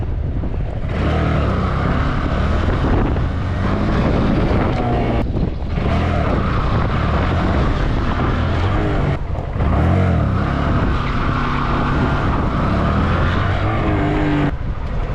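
A motorcycle engine revs repeatedly during riding throttle practice, a loud, continuous drone that rises and falls in pitch with heavy wind buffeting the microphone, dipping briefly between pulls.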